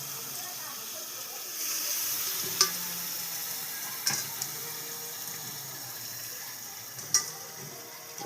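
Bombay duck fish fries in spiced oil with chilli, giving a soft continuous sizzle and a few sharp clicks of stirring, with a quiet voice talking underneath.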